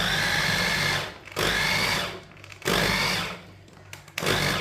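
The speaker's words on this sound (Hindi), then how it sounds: "साग को ना मशीन में डाल लेंगे। साग को ना ग्राइंड कर लेंगे।" Electric grinder blends mustard greens for sarson ka saag, running in loud continuous bursts of whirring motor noise with about four short pauses between pulses, no talk.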